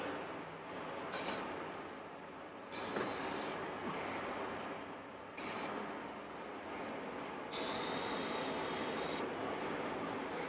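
Aerosol spray can spraying onto a Citroën 2CV in several bursts of hissing, short and long, over a constant background hiss, close and fairly loud.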